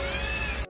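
A cat meows in one short, loud, close call, with no other sound around it.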